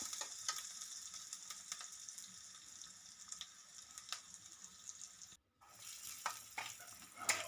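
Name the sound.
onions frying until brown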